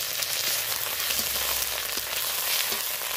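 Ginger and turmeric fry in hot oil in a pan, giving a steady close sizzle dotted with sharp crackling splatter pops, no voices over it.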